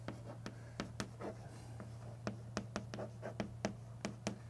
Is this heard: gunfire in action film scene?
no